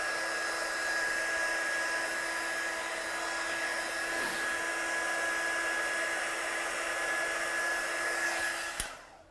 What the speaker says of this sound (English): So I'm just going to heat set this one,